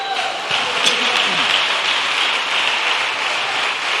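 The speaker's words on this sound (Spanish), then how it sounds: "¿Cuánto el aplauso al Señor por eso, hermano?" A church congregation applauds the Lord during a Spanish-language sermon, steady broadband clapping sustained for several seconds, fairly loud and even, with a voice briefly heard at the start.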